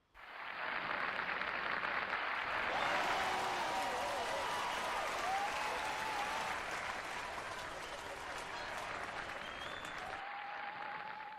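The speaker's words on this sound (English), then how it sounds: "Please give them all a round of applause." Steady applause from a ceremony audience honoring award winners at a closing ceremony, rising quickly to a full sustained wash of clapping that holds evenly before easing slightly near the end.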